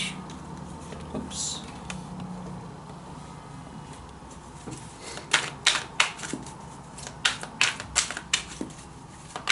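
Tarot cards being handled and shuffled to draw one more card, a run of crisp, close snapping and flicking clicks that come in clusters, loudest toward the end over a quiet room.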